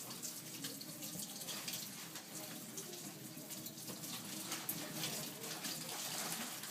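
Tap water running steadily into a sink while dentures are rinsed, a close, continuous splashing gush with no pauses and no talk.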